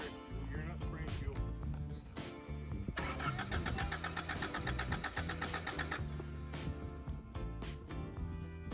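A Acura Integra engine cranks with a fast, rhythmic starter churn after injector O-ring work in the engine bay, loud and close, with music and brief chatter running underneath.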